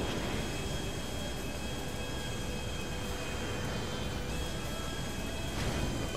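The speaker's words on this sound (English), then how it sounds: "I gotta land this plane" A plane flying in Grand Theft Auto 5, a constant loud engine drone and rushing roar that holds steady and close throughout, with no talk.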